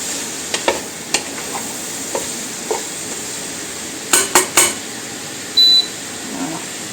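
Mushrooms sautéing in a casserole pot while cooking pork, a soft steady sizzle under scattered clinks and scrapes of a stirring utensil, a short burst of clatter midway and a brief beep near the end.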